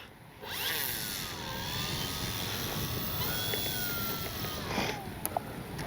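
An electric Flex Aviator 40E RC plane takes off using takeoff assist, its motor whining steadily with rising and falling pitch, loud and close at first and then drifting slightly away.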